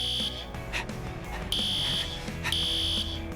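An electronic alarm tone beeps in bursts, steady high-pitched pulses repeating over a busy background of rumbling noise and activity.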